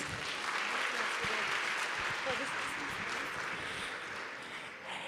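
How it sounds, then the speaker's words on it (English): Audience applause at a women's leadership summit, a sustained even patter of clapping from a sizable crowd in a hall, fading slightly toward the end. "Please give them another round of applause."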